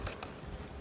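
Honey bees buzz faintly inside a hive: a soft, steady insect drone, brief and alone with no talking.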